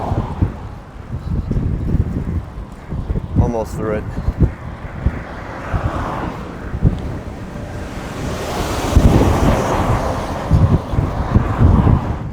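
Strong gusty wind roars and buffets the microphone on an open road while cycling, a steady broadband rush that swells louder near the end, with someone talking briefly over it.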